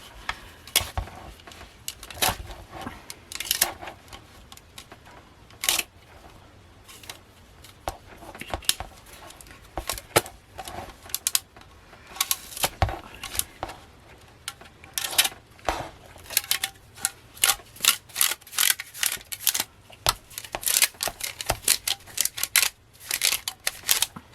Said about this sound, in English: So I'm going to take off all these rubber bands.